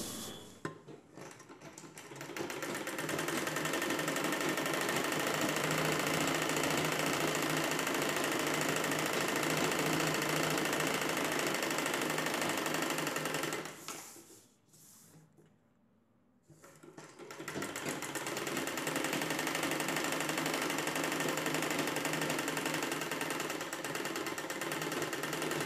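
A sewing machine stitches a cross piece onto the underarm side of a nighty: a loud, close, continuous whirring run that stops briefly around the middle and then resumes and runs to the end, with no talking.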